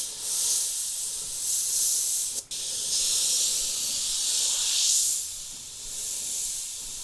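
A suction-feed Gaahleri airbrush sprays paint in a thicker flow and broader pattern, giving a steady close hiss that swells and eases in a few long passes, with one brief cutoff partway through.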